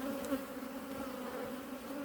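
Honey bees hum at a hive packed with honey in late August, a steady close drone with a sustained pitch and a brief louder buzz near the start.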